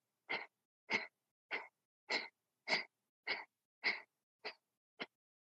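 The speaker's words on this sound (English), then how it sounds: "take a deep inhale into your belly, and then you're going to force quick," Nine quick, forceful nasal exhales of bellows-style yoga breathing come in an even rhythm, each a short sharp puff of air, close and alone in silence.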